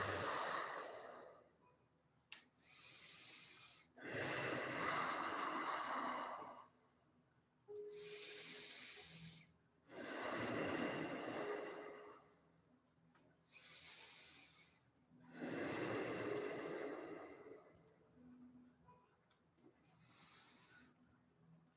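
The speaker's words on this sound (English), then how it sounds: "Breathing." Slow, deep breaths during a qigong exercise, each long airy inhale or exhale separated by short pauses, close and unaccompanied by speech.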